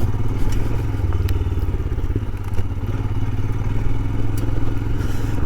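A Royal Enfield Scram 411 motorcycle rides along a gravel trail. The engine thrums steadily and close, while loose stones clatter and crunch under the tyres throughout.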